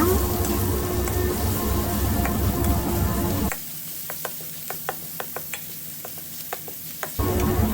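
Pork frying in a pan with a steady broadband sizzle and stirring for the first few seconds, then a quieter stretch of sparse clicks and taps of a utensil before the loud sizzle returns at the end.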